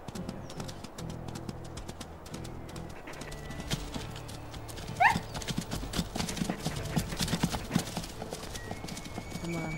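Elk hooves clip-clopping in the video game WolfQuest, a steady run of close hoof steps over low ambient game sound, with a brief bird-like call partway through.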